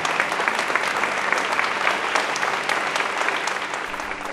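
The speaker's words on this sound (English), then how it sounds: "So to you, Cecilia, we applaud you." Dense, steady applause from a conference audience at an HIV decriminalization gathering, many hands clapping together at full strength throughout with no gaps.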